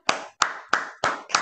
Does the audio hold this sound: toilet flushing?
no